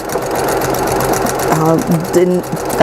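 A sewing machine stitches fabric for a small tote bag made from 5 inch squares, following a quarter inch line with quilter's clips holding the layers, humming steadily and up close under a speaking voice.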